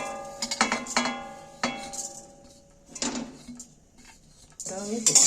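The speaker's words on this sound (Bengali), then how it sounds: "এবার আমি জিরে গুঁড়ো দিয়ে দিচ্ছি কড়ার মধ্যে।" Metal utensils clatter and scrape against a wok as ground cumin is added and stirred for a Bengali ghugni spice mix, in several sharp bursts with quieter gaps and a voice briefly at the end.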